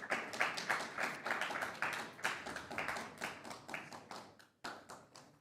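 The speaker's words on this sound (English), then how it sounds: "There's some Foley artists in there with some nice clapping" Foley artists in an audience clap in a quick, rhythmic run of sharp, separate hand claps, fairly faint and steady, with a short break near the end.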